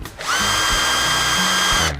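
A Bosch GSB 180-Li cordless drill runs in a short burst, its motor whine rising quickly and holding steady and loud for nearly two seconds before cutting off.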